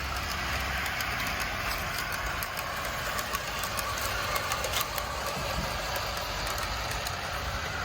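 A PRR GP38 diesel locomotive model runs steadily along its track, a continuous close mechanical rumble and whir with faint rail clatter and no voices.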